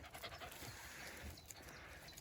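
A dog pants steadily while walking through a forest during mushroom picking, the quick breaths close and continuous over faint outdoor rustling.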